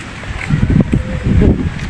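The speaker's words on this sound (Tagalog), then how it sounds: "diba mahangin" Gusty wind buffets the microphone in low rumbling bursts, steady and close, with no one speaking.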